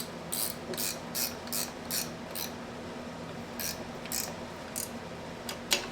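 A ratchet cranks on a bolt of an RX-K motor in bursts of quick clicking strokes, several short runs separated by pauses, close and fairly quiet with no speech.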